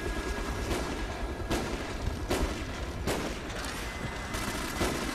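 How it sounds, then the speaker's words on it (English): The Death Machine minigun in Call of Duty: Black Ops firing continuously, a dense roaring stream of shots with a few heavier booms punctuating it, moderately loud and steady, with no voices. "Yeah, we have like 500 bullets, so you can constantly shoot for like, I don't know, 2 minutes"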